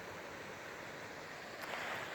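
Torrent River in Abel Tasman, New Zealand, flows over stones as a steady, soft wash of rushing water, continuous and fairly faint with no talking.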